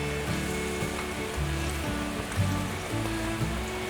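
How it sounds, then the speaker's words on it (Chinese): Water at a rolling boil in a pot as eggplant goes in, a steady bubbling, seething rush close by with brief lumpy splashes, no voices. "水已经滚了，在大滚的状态，把茄子放进来"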